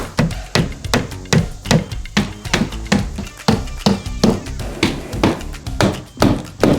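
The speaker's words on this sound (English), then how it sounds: "now we're gonna nail it in place" A hammer drives nails to fix a window in place on a chicken coop, with a steady series of sharp, fairly close strikes in an even rhythm, no talking.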